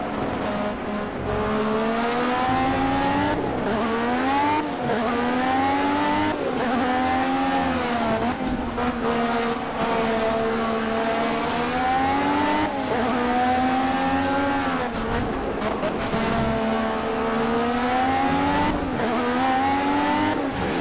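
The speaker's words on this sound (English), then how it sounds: "an opportunity to hear the different engine note depending on the view that you're in" A race car engine in the video game Project Cars, heard from behind the car, roars steadily at high revs, its pitch rising and dipping through gear changes, loud and continuous with no talking.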